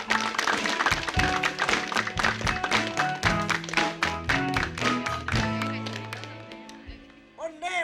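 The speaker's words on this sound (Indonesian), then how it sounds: "tepuk tangan buat peserta yang berkartu hijau" Audience clapping for a singer contestant on an Indonesian TV talent show, a steady burst of hand claps blended with music that fades toward the end.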